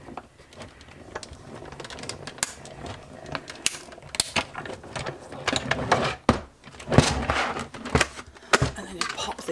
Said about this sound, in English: Send it through the cut and press machine.